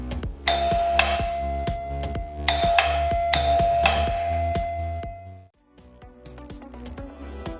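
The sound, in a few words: traditional doorbell chime ringing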